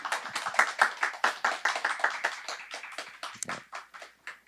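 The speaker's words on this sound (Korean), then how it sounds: "우리 발표하신 조 박사님 위해서 박수를 한번 쳤으면 좋겠습니다" An audience at an academic theology seminar at Kosin University claps for a presenter, producing a moderately loud, steady run of individual hand claps in an even rhythm with no talking.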